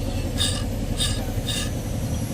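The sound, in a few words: rattling AC clutch pulley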